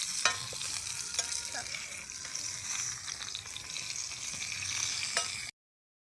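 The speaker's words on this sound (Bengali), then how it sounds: "প্রায় আমার বেগুন ভাজা হয়ে এসেছে।" Eggplant fries in oil in a pan with a steady, close sizzle and faint crackles, occasional scraping touches from turning, continuing until an abrupt stop near the end, no voices.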